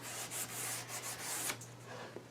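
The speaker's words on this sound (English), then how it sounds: "I'm just going to take a finely folded piece of sandpaper and drag it through that" Folded fine sandpaper rubs along the curved quirk of a cherry and maple picture frame, a close, steady scratchy scraping in quick back-and-forth strokes with a faint low hum underneath.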